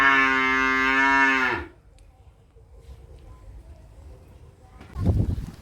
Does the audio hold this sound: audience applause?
no